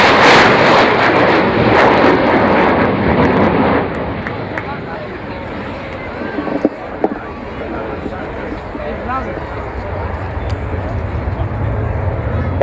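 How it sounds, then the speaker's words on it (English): Avro Vulcan bomber with four Rolls-Royce Bristol Olympus 202 engines flying a display, a loud broad roaring jet rumble that eases slightly after a few seconds and holds steady, with faint crowd sounds underneath. "that was the sound of 4 Rolls-Royce Bristol Olympus 202 engines"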